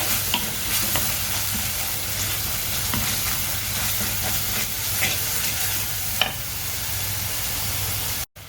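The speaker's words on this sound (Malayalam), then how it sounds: "ഇവനെ നമുക്ക് പച്ചച്ചുവ മാറാനായിട്ട് ഈ വെളിച്ചെണ്ണയ്ക്കകത്തിട്ട് നല്ലപോലെ വഴറ്റി കൊടുക്കണം" Masala paste for a spicy Kerala kalanji fish curry sautés in coconut oil in a pot, a steady close sizzle broken by scraping stirring strokes, with no talking.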